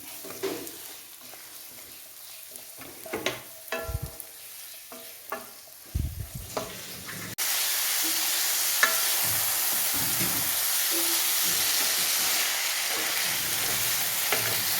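Boiled noodles tossed into a pan with shredded chicken, first scattered scrapes and clinks of a utensil, then a sudden steady loud sizzle of frying that fills the rest.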